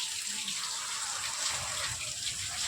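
Rainwater leaking indoors falls and splashes steadily, a soft continuous trickling spatter that stays faint and even throughout.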